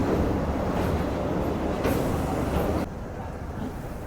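A train runs through mountain country near the longest tunnel in Kashmir, a loud, steady rumble of wheels and carriage noise heard close from on board that drops in level partway through.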